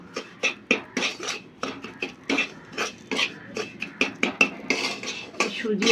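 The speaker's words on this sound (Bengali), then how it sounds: "ঘি দিয়ে সুজিটা ভালো করে একটু লাল করে ভেজে নেবো" A spoon scrapes and clatters in a pan as semolina is stirred and fried in ghee, with quick repeated strokes in an irregular rhythm, close and moderately loud, no voices.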